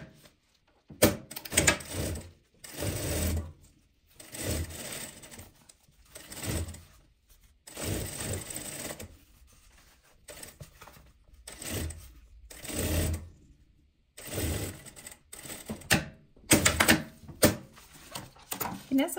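A sewing machine runs in short bursts as a zipper is stitched in, its rapid motor whir starting and stopping with quiet pauses and small handling noises between runs.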